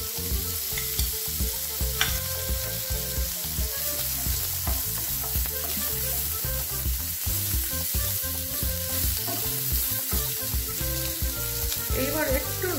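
Onions dropped into a pan with a spoonful of oil sizzle and fry loudly and steadily, close up, with a constant crackling hiss and occasional stirring scrapes throughout.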